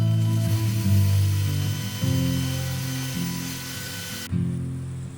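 A table saw with a crosscut sled cuts wood, giving a loud, close, steady motor hum with a ringing blade tone that swells as the cut begins and surges again each time the blade bites. The sound changes abruptly near the end.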